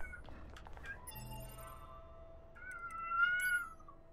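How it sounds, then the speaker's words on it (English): A cat meows close by, one drawn-out call followed by a brighter, rising meow near the end, over quiet game background sounds. "Shush it, kitty."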